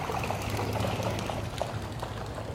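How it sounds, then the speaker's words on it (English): A coot takes off by running along the water, a soft, continuous splashing and pattering across the surface, steady and faint at a distance with an outdoor hum beneath. "That sound was the sound of a coot."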